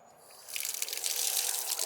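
Water runs from a tap at a roadside rest stop during a winter bicycle tour in Turkey, a steady hiss that starts up partway through and continues close and moderately loud, with no talking.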